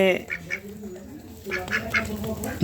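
Several ducks quack in short nasal bursts, a rapid cluster early and another series later, fairly close, with faint background murmur.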